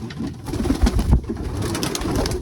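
Several pigeons coo in a loft of Tiger pigeons, low throaty coos repeating close by with the shuffle and rustle of birds around them, no talking.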